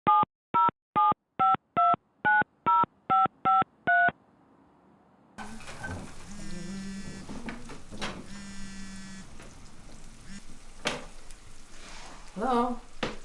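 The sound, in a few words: telephone keypad DTMF dialing tones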